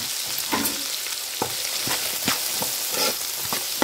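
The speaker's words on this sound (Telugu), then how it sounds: "ఉల్లిపాయ ముక్కలు వేసేసుకోండి." Onion pieces, added after green chillies, fry in oil for an Andhra fish curry with a steady close sizzle, broken by several sharp clicks and scrapes of a stirring spoon against the pan.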